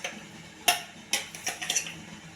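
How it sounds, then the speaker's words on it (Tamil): Spoon scraping and tapping against a metal kadai while roasted idli podi is mixed in it: a handful of sharp, close metallic clinks at an irregular rhythm, with no talking. "நான் வறுத்த கடாயிலே மிக்ஸ் பண்ணுறேன்."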